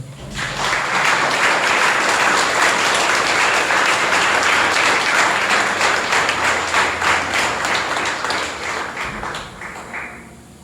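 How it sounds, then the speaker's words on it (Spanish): A church congregation bursts into loud, sustained applause that swells quickly, holds for several seconds, then fades out near the end. "dale un fuerte aplauso"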